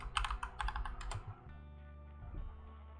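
Quick bursts of keystrokes on a computer keyboard clatter close by, then taper off into a quiet, steady hum with a soft tap or two.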